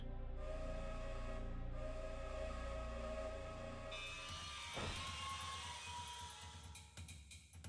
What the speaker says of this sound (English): Loving how they got the train track noise right.